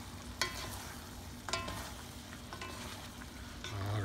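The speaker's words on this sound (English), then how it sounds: "now this is the right time to put our tamarind leaves. Okay, we'll give it a stir again." Tinumis, a dinuguan stew with tamarind leaves, is stirred in a pot: a soft, low simmering sizzle with a few sharp spoon scrapes against the metal, quiet and close.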